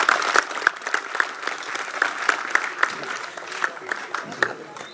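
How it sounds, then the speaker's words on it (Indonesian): Audience clapping at a Javanese community arts studio anniversary celebration, a steady round of applause with sharp individual claps standing out, fairly close and lively, over about five seconds. "Tepuk tangan semuanya."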